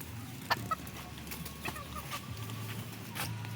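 A chicken clucks in a few short, sharp bursts close by, with a soft background hiss between the calls.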